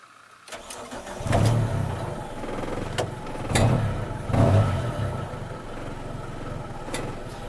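A Nissan B13 Sentra engine cranks and starts, then idles roughly with the idle air control removed, surging and dipping in uneven pulses up close with no talk.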